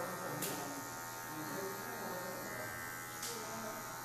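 Electric hair clipper with the guard removed, buzzing steadily and close during a barber's fade haircut, a constant motor drone with brief brighter swells as the blade meets hair.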